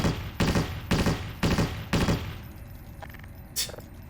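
A machine gun fires in the 2001 beta build of the Half-Life 2 video game. It gives four or five loud, evenly spaced bursts of rapid shots, then a quieter stretch with a couple of faint clicks.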